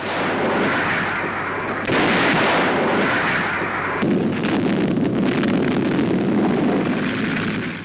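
Naval battleship guns bombard Iwo Jima in 1945: a loud, sustained rumbling roar of heavy gunfire and explosions, broken by sharp bursts.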